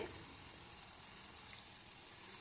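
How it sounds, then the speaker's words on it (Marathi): Sesame and jaggery modak frying in hot oil, a steady, even sizzle of bubbling oil filling the whole stretch without pause, close and fairly loud, with no talking. "तर दुसरी बॅचसुद्धा आपण ह्याच पद्धतीने तळून घेऊया"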